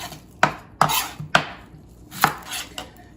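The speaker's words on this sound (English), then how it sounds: "what I want to do is finish cutting up my onions" A knife chops through an onion on a cutting board in a rough chop, with five sharp, close thuds at uneven intervals and quiet gaps between them.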